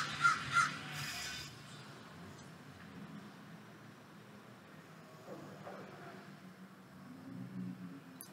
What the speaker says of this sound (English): a bit of a special moment with some birds over there that I appreciated